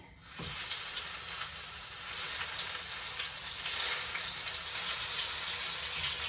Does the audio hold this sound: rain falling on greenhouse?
no